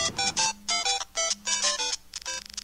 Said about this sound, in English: No, it's just my phone ringing.